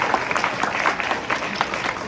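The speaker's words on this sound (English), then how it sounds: "Could the rest of us give these guys a round of applause?" A forum audience claps for public servants, a dense steady patter of many hands at moderate distance, filling the whole brief moment without speech.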